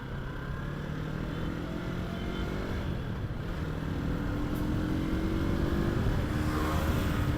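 A Yamaha R3 motorcycle is ridden at steady speed, its engine a continuous drone mixed with heavy wind rush, the pitch rising slightly near the end, with no talk.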